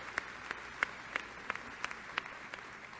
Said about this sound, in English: So please help me recognize with a wildcat round of applause.